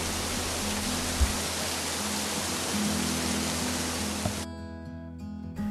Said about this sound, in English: Wow, check out this waterfall on the way to the tourism spot.